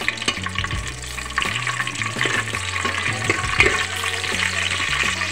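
Four bay leaves and a spoonful of cumin sizzle and crackle in hot oil while being stirred, a steady close frying hiss with scraping and soft clinks, under faint tonal background music.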